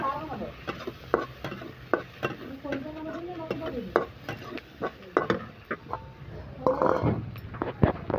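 Sliced onion fries in oil in a pan on its way to brown, giving a close, steady sizzle under frequent scraping and clacking stirs with brief utensil knocks, and no one speaking.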